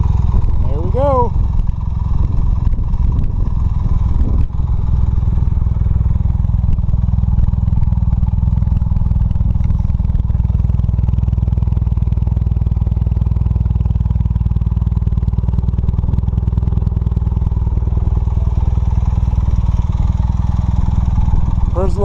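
A 1980 Honda CM400A motorcycle engine idles and warms up up close, a loud, steady low rumble throughout with a brief clatter near the start.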